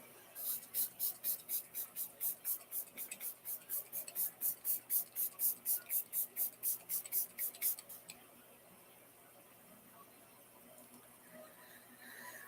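A cosmetic spray bottle is pumped in a rapid, even run of about twenty short hissing spritzes, close and fairly soft, then stops, leaving quiet room tone.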